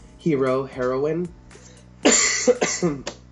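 Close, voiced throat-clearing and harsh coughing sounds from someone with a bad cold, a couple of rough bursts followed by a noisy, raspy clearing.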